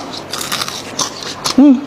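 Someone bites into a crunchy fried snack filled with seafood, a short crisp crunch near the end of a brief close-up moment after light mouth noises.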